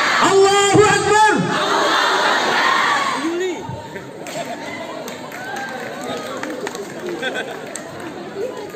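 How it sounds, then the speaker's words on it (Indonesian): A crowd at an Indonesian Independence Day celebration shouts patriotic freedom cries and takbir in unison, loud bursts at first that settle into a busy murmur of chatter and scattered shouts. "Pekikan kemerdekaan, pekikan takbir rupanya masih membahana di tubuh kita."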